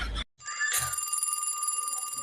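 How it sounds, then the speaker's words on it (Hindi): A mobile phone rings in a home with a steady, repeating electronic ringtone, heard close and clear after a brief opening burst, with no one talking over it. "अरे देखो तो ये दूध वाली का फोन आ रहा है"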